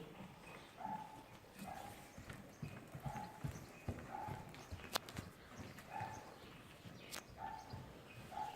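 A horse walks and then trots under a rider during a riding lesson, its hoofbeats soft and rhythmic at a moderate distance, with a regular repeating beat and a few sharp clicks.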